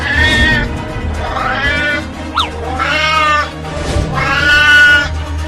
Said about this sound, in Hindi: अरे वो तो एक बिल्ली है